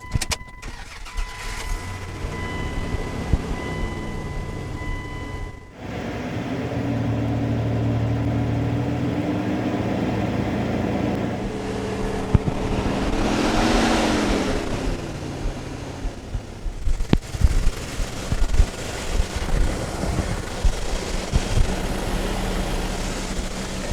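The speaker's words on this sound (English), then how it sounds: "Now I just want to start the engine and get the engine to heat up and start circulating that fluid." A car engine is started and left running to warm the coolant during a cheap backyard radiator repair, a steady idling hum that drops out briefly, then resumes with a rising rev before a few clanks near the end.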